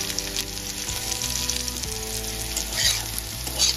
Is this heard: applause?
no